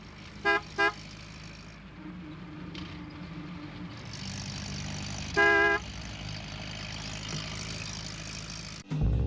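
Postman Pat's van hums along a country road, its engine a steady drone broken by bright double horn toots early on and again midway.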